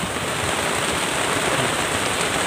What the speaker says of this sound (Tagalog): nabutan tayo ng ulan